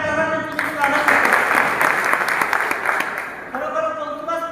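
Loud applause from an audience at a village meeting, a dense steady wash of clapping that swells and holds for several seconds, with speech carrying over it at the start and end.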